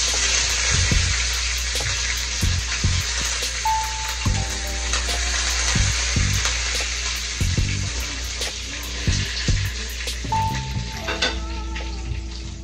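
Chana dal, dried red chillies and curry leaves frying in hot oil in a pan: a loud, steady close-up sizzle with crackling spits throughout and occasional clinks of a stirring spoon.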